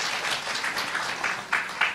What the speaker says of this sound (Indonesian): tepuk tangan untuk keberagaman beliau